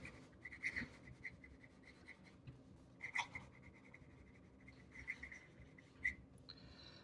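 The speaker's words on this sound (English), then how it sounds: "If we do fast writing." A Lamy Lady fountain pen scratching quickly across paper, a faint, close run of soft strokes with a few sharper ticks, with no talking.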